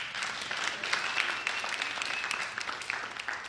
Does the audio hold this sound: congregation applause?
yes